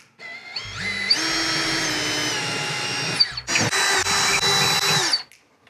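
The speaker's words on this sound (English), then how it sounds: "I'm gonna use a 1/4-inch drill to drill the holes out here." A 1/4-inch power drill bores holes into a wall during a mini split install, its steady motor whine spinning up and holding for about three seconds, then a second burst with stuttering trigger pulses, close and loud with no talk.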